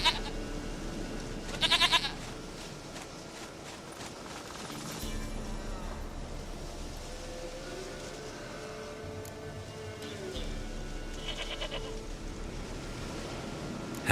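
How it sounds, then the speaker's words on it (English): Goats in the video game The Witcher 3: Wild Hunt bleat in a few short bursts over a steady ambient game backdrop, with music and soft sounds filling the gaps between calls. "Goat of mine, dearest, sweetest goat."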